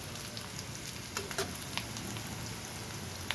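Onions, green chillies, bay leaves and dried chillies frying in oil: a steady, soft sizzle with a few faint clicks and stirring taps.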